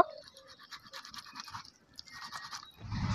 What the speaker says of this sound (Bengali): এবার পোড়া টমেটোটা ঘষে নেব।